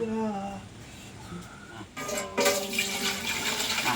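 Water gushes into a pot being readied to steam sweet corn, a strong splashing rush that starts partway through after a quieter stretch with faint voices, then continues loud to the end.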